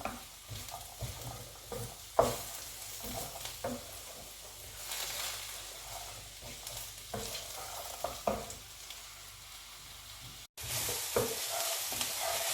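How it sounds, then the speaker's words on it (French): Potato, carrot and onions fry in a pan as they are stirred, giving a steady low sizzle with scattered scraping knocks from the utensil and a sudden louder hiss near the end. "je continue toujours à remuer, à mélanger quoi, le pomme de terre avec la carotte et les oignons"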